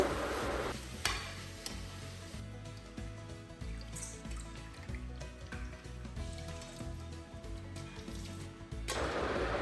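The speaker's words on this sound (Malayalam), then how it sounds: "ഇപ്പോൾ സവാള വഴന്ന് വന്നപ്പോൾ ഫ്രൈഡ് റൈസിലേക്കുള്ള ചിക്കന് ചേർത്ത് കൊടുത്തിട്ട് വേവിച്ചെടുക്കുകയാണ്" Chicken for fried rice frying in a pan with softened onions and green chili: soft sizzling under repeated spatula scrapes and stirs, with no talking and a brief louder sizzle at the start and end.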